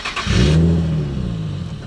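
A JDM car with a Tomei catback exhaust revs up sharply with a deep exhaust roar, then settles into a steady low rumble that holds for the rest of the clip.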